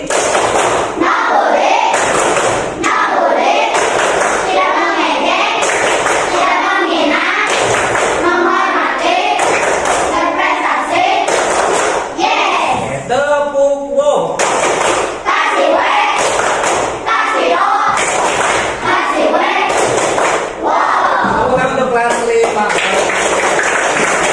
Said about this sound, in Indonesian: Coba tepuk anti bully.